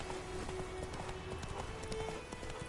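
Horse hooves gallop in The Witcher 3, a steady clip-clop rhythm running throughout, close and moderately loud over a low ambient bed with faint game tones.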